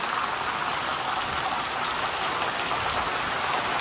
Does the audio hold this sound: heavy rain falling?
yes